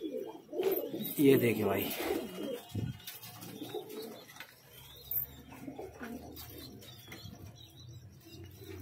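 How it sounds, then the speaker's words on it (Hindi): Pigeons coo in low, throaty bursts, loudest early, while two of them fight nearby with brief scuffling. Someone talks over them throughout. "ये यहाँ लड़ाइयाँ चल रही हैं दो कबूतरों की आपस में"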